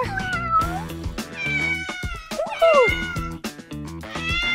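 Cats meow repeatedly over a busy backdrop of music with pitched harmonic tones, the calls rising and falling in short bursts and fairly loud throughout.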